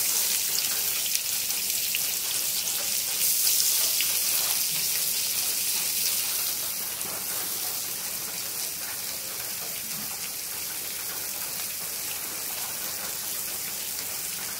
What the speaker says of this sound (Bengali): এবার দেখো পেঁয়াজ কুচিটা আমি দিয়ে দেবো।